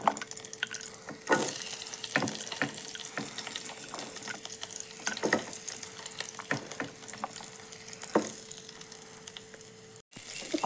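Spinach tempering in hot oil with mustard seeds, cumin, dried chili and onion, a steady close sizzle with intermittent stirring scrapes and clinks, no voices.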